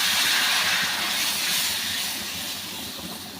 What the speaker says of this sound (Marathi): त्या मसाले खाली लागू नये म्हणून यामध्ये थोडंसं पाणी टाकायचं आहे